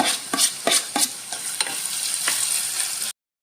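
Coconut pieces roasting in ghee in a pan, stirred with quick, close scraping strokes over a soft sizzle. The stirring is busiest at first, then eases and cuts off abruptly near the end.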